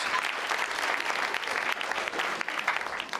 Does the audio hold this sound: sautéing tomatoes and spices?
no